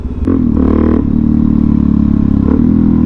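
A Suzuki DR-Z400SM supermoto motorcycle ridden and revved, its loud single-cylinder engine droning steadily close by with throttle blips near the start and again around the two-and-a-half-second mark.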